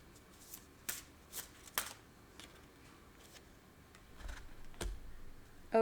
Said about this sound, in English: We'll go ahead and shuffle.